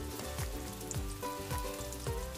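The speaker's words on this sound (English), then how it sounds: "This time, fry the balls coated with bread crumb." Bread-crumb-coated shrimp balls deep frying in hot oil, a soft continuous bubbling sizzle with faint periodic stirring bumps, close but quiet, no voices.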